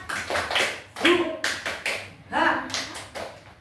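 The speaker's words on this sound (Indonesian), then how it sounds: "Tepuk semangat dulu." Schoolchildren in an elementary classroom do a rhythmic cheer clap, several bursts of group clapping mixed with their voices calling out, fairly close and lively.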